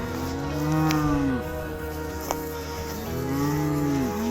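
Farm cows mooing loudly and close, two long drawn-out lows separated by a pause, with faint outdoor background noise and no talking.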